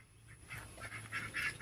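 Ducks sitting inside a shelter give a few soft, brief quacks, faint and close together over a low background hum.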